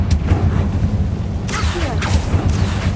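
A Confringo blasting spell explodes in a video game, a sharp burst up front followed by three more rough, crackling blasts over a constant low rumble.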